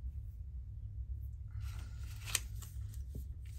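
Scissors trim a small amount off an antique paper envelope, a quiet, close sequence of short snips and paper rustles over a low background hum, with no talk.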